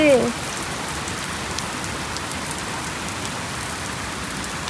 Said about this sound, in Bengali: বাবা কি জোরে বৃষ্টি এসেছে